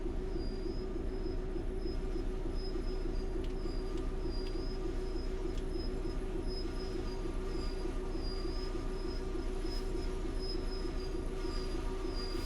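Diesel freight train in Train Sim World 5 braking to a stop, a continuous low rumble of rolling wagons with repeated high squeals from the wheels and brakes, steady and close, with no talk.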